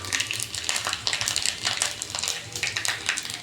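Mustard seeds spluttering and popping in hot oil with browned coconut pieces, a dense, steady crackle of sharp pops in irregular bursts, close and fairly loud, with no voices.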